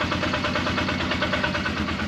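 Engine idling steadily while warming up on an off-grid homestead, throttle held open, a constant rough drone close to the microphone with no pauses and no talk.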